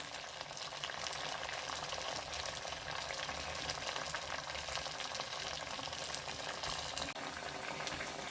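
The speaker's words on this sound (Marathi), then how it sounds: "हे एक एक करून तळून घेऊया." Sabudana vada, spiced sago patties, deep-frying in hot oil, giving a steady, even sizzle and bubbling close up that runs unbroken throughout with no talking.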